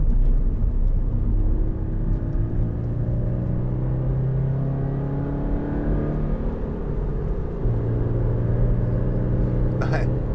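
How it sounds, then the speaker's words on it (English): A 2015 Toyota GT86 2.0 D-4S engine rumbles and drones steadily throughout, low and continuous, with a brief sharper noise near the end. "Nice engine sound."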